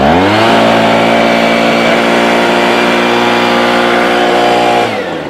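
A Craftsman B210 25cc 2-cycle leaf blower engine held at throttle, a loud, steady, buzzing drone that stays constant for several seconds before easing off at the end.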